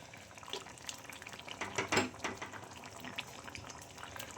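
Lentil koftas simmer in a thin curry gravy, with soft continuous bubbling and occasional stirring scrapes in the pot, fairly quiet and close, a slightly louder burst midway.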